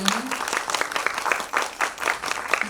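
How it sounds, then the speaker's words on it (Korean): A crowd applauds steadily at a Korean film press screening and press conference, with dense clapping throughout, fairly close and loud, with no talking over it. "박수 부탁드립니다"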